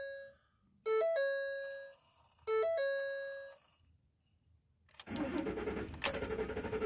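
A 2010 Ford F-150 sounds two rounds of electronic warning chimes, then its engine cranks hard and catches into a loud, rough running roar close by.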